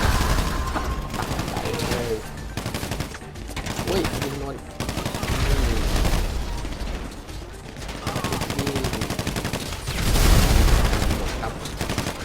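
Rapid bursts of gunfire crackle continuously alongside other busy game sounds in GTA V Online during the Humane Labs heist, loud and close, with a louder volley toward the end.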